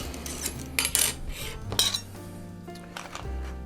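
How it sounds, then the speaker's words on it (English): An offset spatula scraping and clinking against a plate beneath a vegan molten lava cake, several short metallic scrapes and taps close up in a quiet room, no speech. "We're gonna take an offset spatula and we're just gonna gently kind of go underneath to make sure it's not sticking on the bottom."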